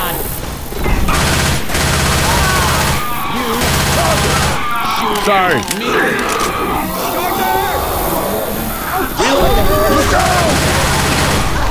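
Dense gunfire in Left 4 Dead 2, continuous rapid shots and bursts from several weapons, loud and close throughout, with character voices and a brief spoken word mixed in.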